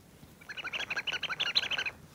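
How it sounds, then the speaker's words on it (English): A toy chipmunk figure lets out a rapid series of high, bright electronic chirps lasting under two seconds, fairly quiet and with no talk. "And she chirps."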